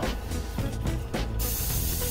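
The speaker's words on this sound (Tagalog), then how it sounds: "May backup ka dito ang spray na ito." A continuous close hiss of hair spray from a can used in a do-it-yourself hairstyle, steady throughout with slight pulses as the spray is released.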